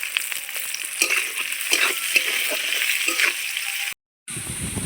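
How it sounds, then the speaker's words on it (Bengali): Chilli potatoes with chopped capsicum fry on a low flame, giving a continuous sizzle with spatula stirring and scraping close by, briefly cut off near the end. "এবার এটাকে হালকা আঁচে ভেজে নেবো ভালো করে"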